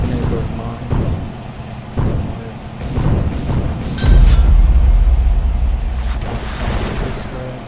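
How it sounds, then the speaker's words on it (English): Land mines blow up in the War Legends tank game, a series of deep booming blasts, the loudest and longest rumbling midway, over a continuous bed of game noise. "try to detonate those mines"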